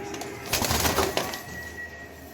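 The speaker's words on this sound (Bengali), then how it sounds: "এই যে মাদিগুলো দেখলে বুঝতে পারবেন এগুলো সবগুলো অরিজিনাল মাদি কবুতর" Wild Jalali pigeons, female, coo nearby in soft, throaty bursts, with a few rustling sounds around them.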